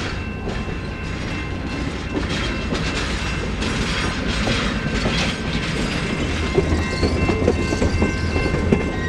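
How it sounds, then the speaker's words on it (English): Grand Canyon Railway train rolling into Williams Station, a steady loud rumble of wheels and cars with rhythmic clickety-clack throughout and a faint horn or whistle in the background. "It didn't take long for the train to be pulling into Williams Station"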